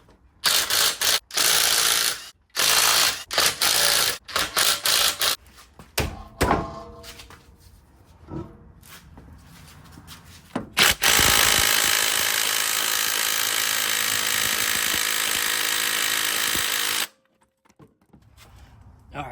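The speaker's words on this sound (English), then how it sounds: "now we can go ahead and remove this front wheel here so we can get access to the timing bolt" A power tool zips off 22mm wheel nuts on a Honda Legend KB1 front wheel, loud short bursts with clunks in between, then one long sustained run before it stops; a voice is briefly heard.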